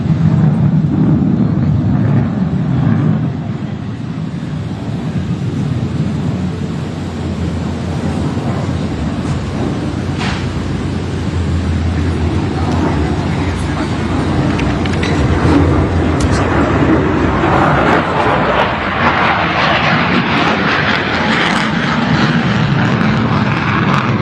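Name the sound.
F-35C fighter jet flying a low-speed pedal turn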